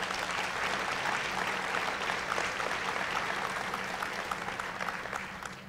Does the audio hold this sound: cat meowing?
no